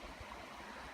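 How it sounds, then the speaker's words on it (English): Two creeks running together with falls nearby at the Lower Shoal Creek Shelter on the Pinhoti Trail, giving a steady, close, full-bodied rush of flowing water with no voices. "There's actually two creeks that run together here. Some falls back there."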